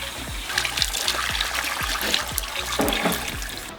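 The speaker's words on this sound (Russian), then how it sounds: "смываем 12 ряд краситель без шампуня, смываем его просто водой" Hair dye being rinsed out of hair with plain water and no shampoo, a close, steady stream of splashing and trickling with a repeated soft dull thumping throughout.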